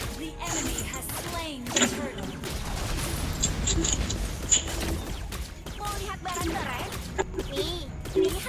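Explosions in a Mobile Legends match with Layla and Harley, heard as sharp, punchy bursts and crackling impacts scattered through busy game effects, with a voice talking over the action.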